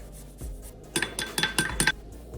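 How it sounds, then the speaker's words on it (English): A clove of garlic scrapes across a metal grater in a few quick, crisp strokes near the listener, bright raspy rubs over a quiet kitchen background, on its way into extra virgin olive oil. "Also grate some garlic."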